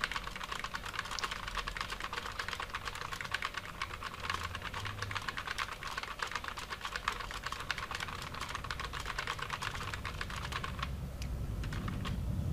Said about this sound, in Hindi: यहाँ पे हम दोस्तों कुछ भी एक नॉर्मली एक पैराग्राफ को टाइप कर लेते हैं